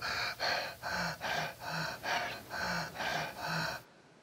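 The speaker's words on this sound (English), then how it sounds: "all I hear is myself breathing" Heavy, rhythmic breathing close to the microphone, about eight rasping breaths in a steady pattern, then it stops abruptly.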